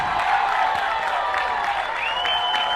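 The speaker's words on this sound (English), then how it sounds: "the Wilmington fans are cheering a good throw" A home crowd of Wilmington fans at a 2018 CAA college baseball championship game between UNCW and Northeastern cheers and applauds, a steady, dense roar of clapping and voices that holds for the whole stretch.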